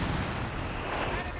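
Artillery barrage in the strategy game Company of Heroes 3, a dense continuous rumble of shell fire and explosions heard under a commentator's voice.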